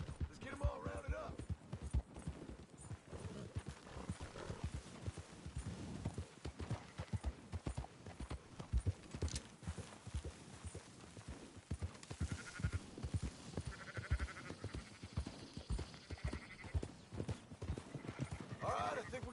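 Horse hooves clip-clop steadily while sheep bleat during a herding ride in the video game Red Dead Redemption 2, the game audio busy and continuous with occasional speech mixed in.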